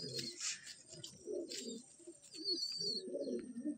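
Madrasi pigeons of a fifteen-year-old bloodline cooing in a loft at Basirhat, soft repeated low coos running throughout alongside faint chirps and bright background noise.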